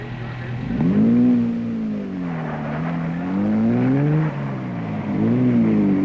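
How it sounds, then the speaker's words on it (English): Big rally cars arriving on a Hillman safari rally, one engine close and continuous, its pitch rising and falling through repeated revs and gear changes, with no voices over it. "The remaining big cars start to arrive thanks to some magnificent driving by their crews"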